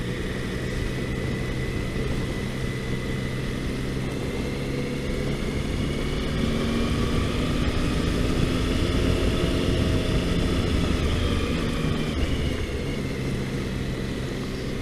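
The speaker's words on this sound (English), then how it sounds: "riding a motorbike while I'm talking" Motorbike engine drones steadily at close range while riding slowly on a road in North Wales between Lake Bala and Lake Vyrnwy. Constant low rumble with a humming engine tone, no talk.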